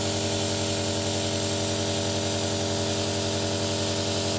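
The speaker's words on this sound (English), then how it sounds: "You just want to try and get it until you're comfortable with where the paint comes out of the airbrush" An airbrush sprays paint in a steady, unbroken close hiss, with a constant low hum from the compressed-air supply running underneath.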